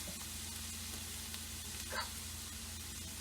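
Liquid from clams casino cooking off in a pan over a wood fire, a constant hissing sizzle with a low steady hum beneath and one brief sharper crackle near the middle.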